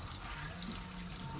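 Waste water from drinking-water use flows out in a steady, continuous wash of running water, faint and unbroken.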